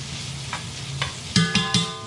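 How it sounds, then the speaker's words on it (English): Bacon dropped into a pan of melted butter with onion and celery, giving a steady close sizzle with a few soft stirring knocks and clinks near the end. "We're gonna pop in our bacon."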